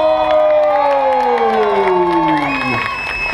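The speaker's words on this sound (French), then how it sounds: "écoutez les applaudissements de Besançon pour Thibaut Pinot" Crowd in Besançon cheering and applauding cyclist Thibaut Pinot at the 2014 Tour de France stage start, a loud, steady roar of claps and whoops with a rising whistle-like tone sweeping through.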